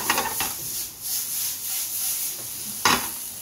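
Wagyu beef sizzles quietly in a pan during a quick sauté, with a steady hiss and a few light scrapes of stirring, and no voices.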